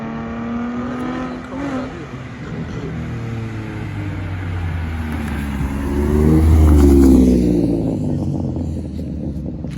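A car revving hard and spinning its tires at a car meet: a loud, sustained engine roar that climbs in pitch and swells toward the end, heard nearby with no talk.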